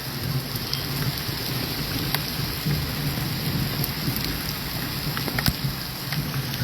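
Heavy rain pours over Tangmarg and Gulmarg in Baramulla District, a loud, steady broadband downpour that hisses without letup, with low rumbling underneath and a few sharp drop strikes.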